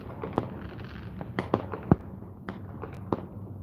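Fireworks pop and crackle at a park near an Ohio River bank, a scattered series of sharp bangs of varying loudness over a steady outdoor background, with no voices.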